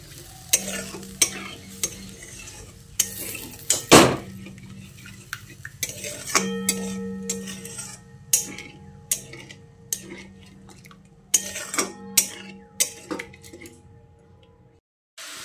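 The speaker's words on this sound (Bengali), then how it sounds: "তারপর মশলাটাকে কিছুক্ষণ ভালো করে কষিয়ে নিচ্ছি।" Spice masala with a splash of water fries in a pan for a soybean dish while a spatula stirs it, giving repeated sharp scraping knocks against the pan over a low, steady sizzle, close and uneven in rhythm.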